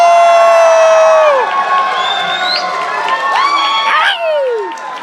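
A crowd at a Sonic SXSW panel cheers and whoops loudly, high shouts and screams rising and overlapping with voices calling out the whole time.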